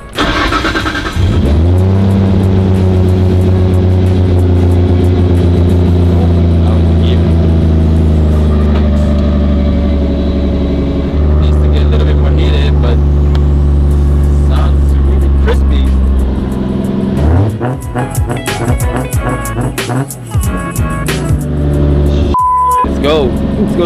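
The engine of a custom DAI33 Skyline GT-R SEMA build starts close up and settles into a loud, steady idle with a deep rumble. Near the end it revs again, and voices talk faintly over it.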